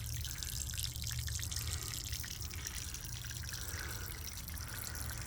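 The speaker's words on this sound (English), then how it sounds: "so the cold water is refilling the hot water, and as I suspected, there is sand, looks like, all kinds of little fine sediment coming out of here." Hot, sediment-laden water draining from a hot water heater, a quiet steady trickling and splashing that runs without pause.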